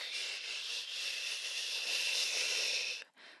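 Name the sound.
voice imitating an airplane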